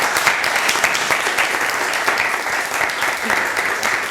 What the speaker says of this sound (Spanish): pues les pido un aplauso para...